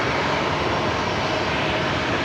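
Jet aircraft at Brisbane Airport on a flight to Newcastle: a loud, dense, unbroken engine roar filling the whole moment, with no voices.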